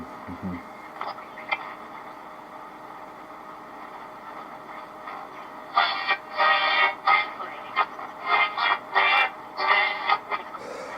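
A 1962 Ekco PT208 transistor radio picks up a broadcast: a faint, steady hiss first, then louder, choppy, distorted bursts of sound come through the static.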